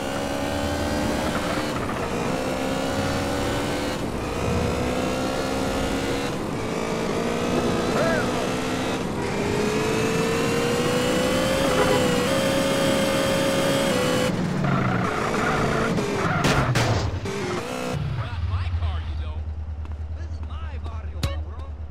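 Armored truck driving in GTA San Andreas, a steady engine drone with shifting pitch running throughout, loud and close, under game music and voices, ending with rough crashes and a lower idle.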